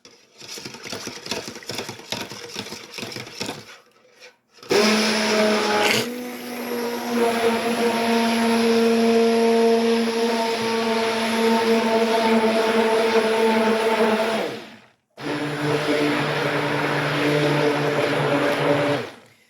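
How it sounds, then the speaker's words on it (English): Stick blender whirring in bursts while mixing coconut oil soap: a rattling start, then two long steady runs separated by brief pauses, loud and close. "Get my stick blender ready."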